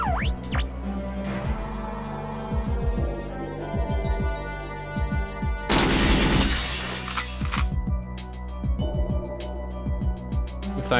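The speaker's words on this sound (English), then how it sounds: "you can shoot the glass through." Glass shatters under gunfire in the video game GoldenEye 007: a loud burst of breaking glass around the middle, set among repeated sharp gunshots and game sound with a steady musical background.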